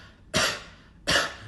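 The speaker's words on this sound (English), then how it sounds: "when we start forcibly coughing, we forget to take the deep inhale" Two forced coughs, each preceded by a deep inhale, sharp and close with a brief gap between them and no talk.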